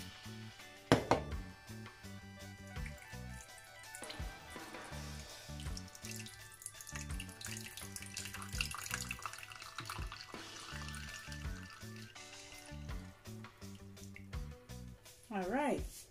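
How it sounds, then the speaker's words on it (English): Water running and splashing into a kitchen bowl while Jamaican sorrel drink is strained, a steady pour with background music and someone talking over it. "Just gonna tip a little bit of water."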